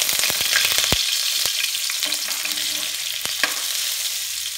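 Butter sizzles and spits in a hot pan for a Jollibee-style Filipino spaghetti sauce, a steady close frying hiss broken by several sharp pops and crackles, with no voices.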